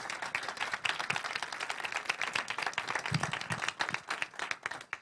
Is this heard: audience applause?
yes